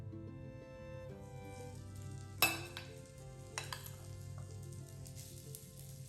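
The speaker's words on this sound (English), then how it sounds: "Then plug in your waffle iron and add 2 tablespoons of the chaffle mix." Chaffle batter hisses faintly on a hot plugged-in waffle iron, a low steady sizzle with a sharp clank near the middle and a few softer knocks, under a quiet tonal hum; no voices.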